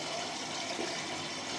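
Tap water running steadily into a sink to warm it, a continuous broadband hiss and splash that stays even and fairly close throughout.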